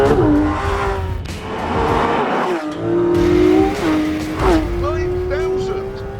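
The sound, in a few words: non-turbo 4-litre flat-six car engine revving to 9,000 RPM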